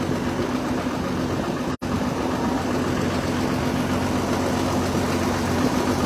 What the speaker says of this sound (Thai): เรื่องเรือก็อาจจะดังจังหน่อยนะคะเพราะว่าเรากำลังข้ามเรือกันอยู่นะคะ